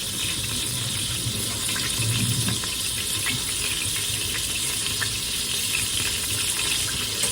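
Steady running tap water splashing into a sink as hands are rinsed, close and continuous, with no voices.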